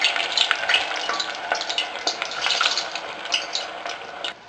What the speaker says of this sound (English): I-deep fry lang natin yung saging na saba for a few minutes.